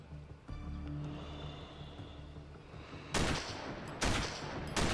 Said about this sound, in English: Now I'm just shooting wildly.